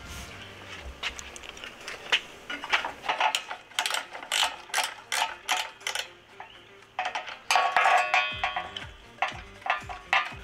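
A ratchet loosening a bolt on a Jeep TJ tow hook clicks in close, loud bursts of rapid pawl clicks, pausing between strokes, with faint metallic handling between.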